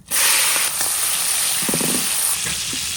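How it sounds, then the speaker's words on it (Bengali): Marinated prawns coated in turmeric powder and salt sizzle lightly in a pan, giving a steady, close hiss of hot oil with a few faint spatters and no talk. "এখন এই চিংড়ি মাছ হালকা ভাজতে হইবে।"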